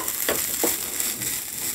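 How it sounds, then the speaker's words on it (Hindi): Coconut is stirred into sweet poha in a pan, giving a continuous soft hiss with two brief scraping strokes from a spoon, close and without talking. "नारियल से भी मैं अच्छी तरह से मिक्स करूंगी।"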